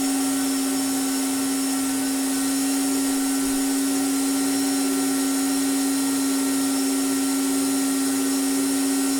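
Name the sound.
Bitmain Antminer B3 power supply fan noise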